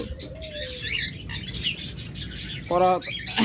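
Caged cockatiels and other shop birds such as lovebirds, budgerigars and doves chirp and call in a bird shop, with short bright tweets, a brief flutter of wings and a quick burst of calls near the end.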